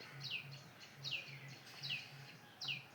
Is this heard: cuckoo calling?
yes